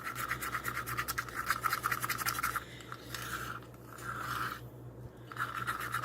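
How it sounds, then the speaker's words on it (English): Alcohol ink being stirred into a mold-making mixture, a steady scraping and rubbing that repeats in quick strokes, pausing briefly twice before picking up again, close and moderately loud. "So yeah, just gonna mix this up really good."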